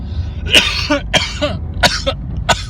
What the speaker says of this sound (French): Arrête pas de tousser.